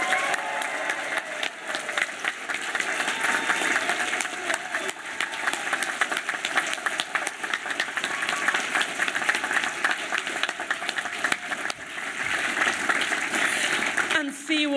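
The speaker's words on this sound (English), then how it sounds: "put your hands, legs, cheering voices together to thank this year's convention" Sustained audience applause with cheering at a science fiction awards ceremony, dense continuous clapping filling the room, with crowd voices mixed in and a sharp drop at the very end.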